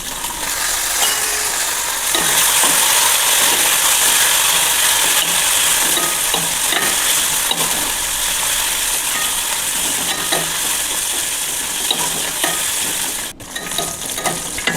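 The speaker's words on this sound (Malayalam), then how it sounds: "അണ്ടിപ്പരിപ്പ് ചുവന്ന് തുടങ്ങി. ഇനി കഴുകി വൃത്തിയാക്കിയ മുന്തിരി ചേർക്കാം." Cashews and raisins frying in ghee in a pan for semiya payasam, a loud steady sizzle with scraping stirs and spoon clinks close up, ending in a brief clatter.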